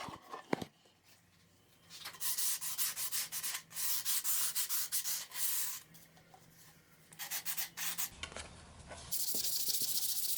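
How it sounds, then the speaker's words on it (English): Sandpaper rubs along the edges of a wooden board for a cat scratcher, making several bursts of close, coarse, hissing scratches separated by short pauses, with no talking. "Make sure to sand the edges too so that when we put the edge banding on it sticks really well."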